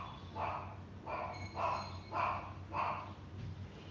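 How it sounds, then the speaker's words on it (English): A dog barks in a regular series of about five faint, distant barks spaced roughly half a second apart, heard in the background of an online lecture. "I'm sorry for those barking sounds."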